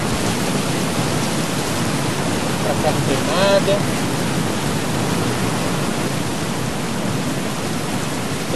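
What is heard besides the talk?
rain in the video game Battlefield Hardline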